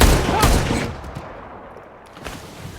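A single gunshot in a film standoff, a loud sharp blast at the start that fades into a rumbling tail, followed by quieter ambient noise and a faint later thud.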